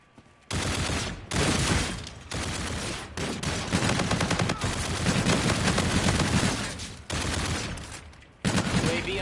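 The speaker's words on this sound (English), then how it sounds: "Shooting while moving is much harder." Automatic gunfire in a Call of Duty match fired while wall running: long, loud, dense bursts split by brief pauses, close and steady for most of the stretch.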